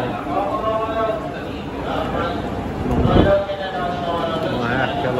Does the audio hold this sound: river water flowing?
no